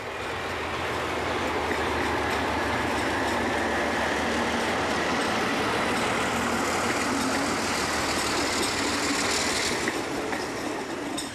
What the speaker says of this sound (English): this local stopping service also employs some distinctive motive power, like these old 1500 class USA Alco diesels, originally introduced in 1948